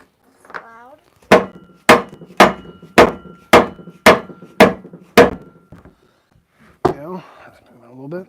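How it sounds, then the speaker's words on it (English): A mallet strikes a part over and over to work it loose during a restoration job, making eight loud, evenly spaced knocks close by, with a little talk just before and after. "I'm going to use mallet just to get this moving a little bit."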